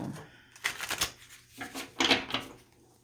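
Tarot cards riffle and slap together in a few quick bursts, close up, with short pauses between shuffles.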